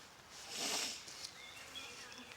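A soft, steady buzzing of honeybees at an apiary, swelling briefly and then fading to a low hum, fairly quiet and without voices.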